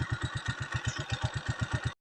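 A motorcycle engine runs close by with a rapid, even low-pitched pulse, then cuts off abruptly right at the end.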